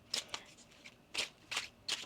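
A deck of tarot cards is shuffled by hand in four or five quick, crisp riffling bursts with short pauses between them, close and fairly quiet.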